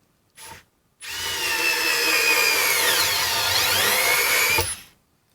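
A battery-powered screwdriver, one of several compared including Bosch Go3, Worx, Denali and DeWalt models, whirs steadily for several seconds as it drives a fastener that strips out, after a brief short burst, loud and close with no talk.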